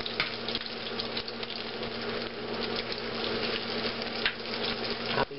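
Bacon frying in a pan, making a continuous crackling sizzle over a low steady hum, close and even throughout.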